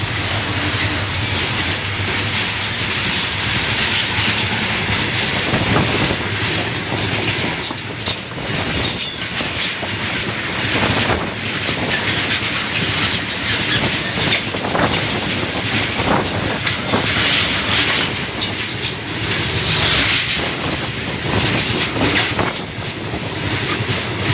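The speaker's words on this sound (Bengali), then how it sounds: "সেটা আবার মাল ট্রেন" A long freight train rumbles past nearby, steady rolling clatter of wagons and wheels, with wind buffeting the microphone.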